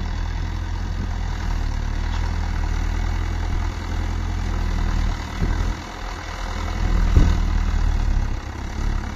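A Mahindra Arjun Novo 605 DI tractor, 57 hp, runs with a steady low diesel throb, close and fairly loud, with slight dips and surges near the end.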